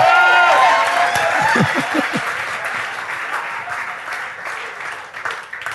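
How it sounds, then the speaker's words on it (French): A church congregation applauds and cheers at a sermon, with loud, steady clapping and a few voices calling out early on. The noise fades slowly but carries on throughout. "Les gens acclament, ils sont contents."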